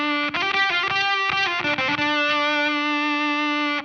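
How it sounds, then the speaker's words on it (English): Electric guitar through a Mythos Mjolnir fuzz pedal with a germanium 1N34A diode: a few picked notes, then a single sustained note with gritty, crackly distortion, loud and close with no voices. "This is kind of a gritty, crackly fuzz."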